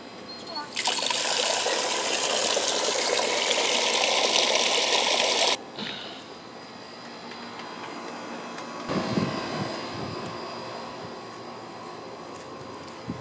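Water spraying and hissing from a hole in a garden hose outdoors, loud and steady for several seconds before cutting off abruptly, then quieter trickling with some handling noise.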